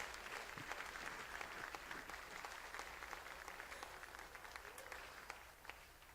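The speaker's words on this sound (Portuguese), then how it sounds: "dê um forte aplauso a esse Senhor esta noite" A church congregation applauds in a sustained, dense wash of clapping that holds steady and fades slightly toward the end, heard from within the room with faint voices underneath.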